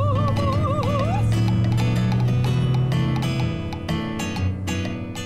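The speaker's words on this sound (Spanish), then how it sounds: "Nunca pensé ver a Lucy cabalgando en plena tormenta" A radio drama horse gallops through a storm, rapid hoof clip-clops beating fast and close beneath dramatic music and a brief whinny-like whistle.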